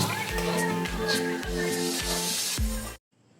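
Food cooks in a pan with a steady sizzle and hiss, broken by several rhythmic low knocks of stirring or scraping, then stops abruptly.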